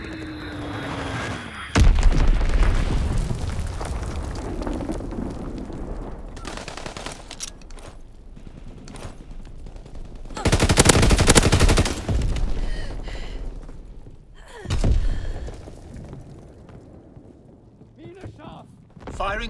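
Naval guns fire in Call of Duty: WWII, heavy booming blasts and rumbling salvos in irregular bursts, with radio-style voices talking between shots.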